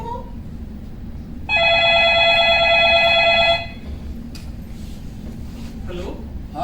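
A telephone bell rings in a steady burst for about two seconds, loud and close in an indoor room, then stops as quieter background sound continues.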